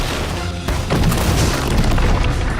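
Cartoon explosion effect for a cosmic strike attack: a loud, sustained booming rumble that bursts in after a short lead-in and fills the whole clip.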